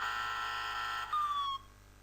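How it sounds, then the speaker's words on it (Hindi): A mobile phone's anti-theft alarm sounds after its charger is unplugged: a steady, shrill electronic tone that briefly shifts into a falling whistle before cutting off. "फिर मैंने चार्जर डिस्कनेक्ट किया है तो इस तरह से ये अलार्म बजना शुरू हो गया।"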